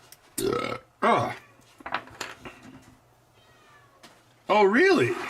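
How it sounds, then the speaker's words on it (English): An indoor house cat gives a couple of drawn-out mews. The last is the loudest and closest, with faint movement and quiet noises between the calls. "he's mewing for help"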